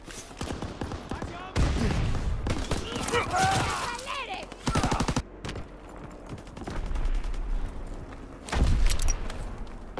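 Rapid anti-aircraft gunfire in a World War II battle game: bursts of heavy, booming shots repeat in loud clusters, with short quieter gaps between volleys and a radio-style voice talking intermittently.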